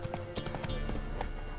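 Roach the horse trots in The Witcher game, hooves clip-clopping in a steady rhythm at close range, loud and continuous for under two seconds with no talking.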